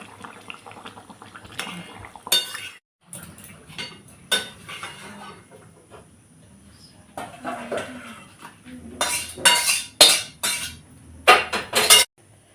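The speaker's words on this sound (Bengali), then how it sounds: "চল, মাছগুলো দিয়ে দিয়েছি, আর একবার সাঁতলে নেবো এটা।" Fish sautéed in curry in a kitchen pan gives scattered clinks and scrapes of utensils against the pan with soft bubbling, bursts of clatter near the end, and a voice talking now and then.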